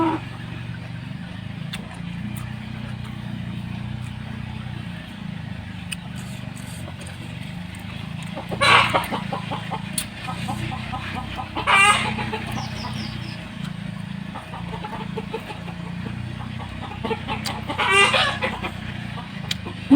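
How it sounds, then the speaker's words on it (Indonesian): Chickens cluck and a rooster crows in a few loud bursts over a steady low mechanical rumble and outdoor background noise. "suara ayam"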